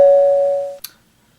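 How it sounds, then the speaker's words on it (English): A doorbell chime rings once, a sustained tone that holds then cuts off, followed by a short bright click; nothing else around it. "Doorbell."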